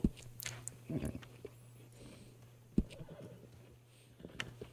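A horse in Red Dead Redemption 2 gives a couple of short neighs and snorts over a steady low hum, with faint hoof and movement noises between them, moderately close and without speech.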